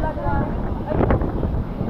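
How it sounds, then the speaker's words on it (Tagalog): Strong wind buffets the microphone outdoors at a fishball stall, a steady low rumbling roar filling the whole clip with a brief louder gust in the middle. "Masyadong mahangin."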